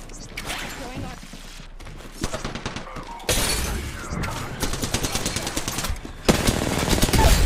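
A grenade blast in the Apex Legends battle royale game, breaking out among dense rapid gunfire, with a louder loud burst near the end and spoken callouts mixed in.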